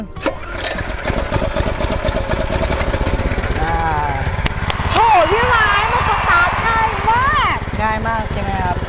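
A KTG 210PRO two-axle, 7-horsepower two-wheel tractor tiller engine is pull-started and catches, chugging and revving loudly up close while a person talks over the running motor.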